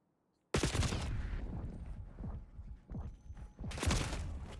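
Gunfire in the video game Black Ops 6 during ranked play, a dense burst of rapid shots starting abruptly after a brief silence, with more shots following toward the end.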